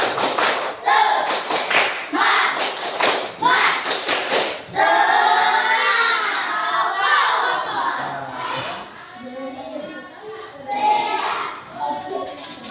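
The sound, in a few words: class doing rhythmic 'tepuk semangat' spirit clapping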